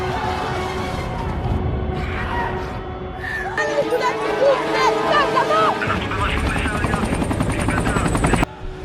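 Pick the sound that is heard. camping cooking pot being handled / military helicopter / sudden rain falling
military helicopter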